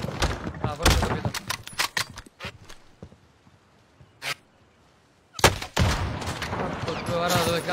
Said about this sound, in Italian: C'è uno sniper che mi spara, non so da dove.